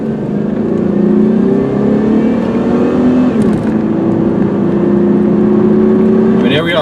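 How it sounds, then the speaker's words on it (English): A 1995 Oldsmobile Cutlass Ciera with a 3.1 liter V6 accelerating on the road, the engine note climbing steadily, dipping at a gear shift, then rising again, loud and close from inside the car. "Here, I'll get a little more gas this time."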